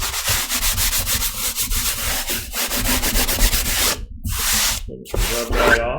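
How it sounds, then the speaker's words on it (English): Masking glue is rubbed off watercolor paper, giving a close, dry, scratchy scrubbing with quick back-and-forth strokes that pauses briefly a few times. "Okay, so now I'm going to remove the masking glue that I put on here earlier."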